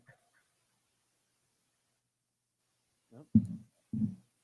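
A dog gives a few faint, short barks near the end after a long silence, two or three quick low woofs heard at a distance over a call.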